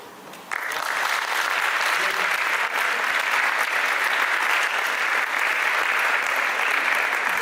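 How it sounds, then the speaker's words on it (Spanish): Applause from an audience at a book launch for a collection of mining-town myths and legends breaks out after a brief pause, then continues as steady, dense clapping at an even level to the end. "yo aquí pediría un gran aplauso"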